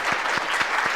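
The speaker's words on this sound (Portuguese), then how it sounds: "Mais uma salva de palmas para ela." Audience applause at a university Christianity course extension event, steady dense clapping filling the whole second at moderate level, with no voices over it.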